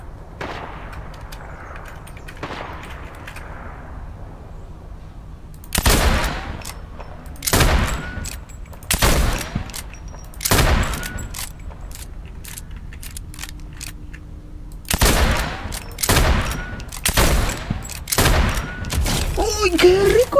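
Several sharp gunshots fire in bursts in the video game Fortnite on PC, loud and close, with quieter gaps and low background hum between volleys.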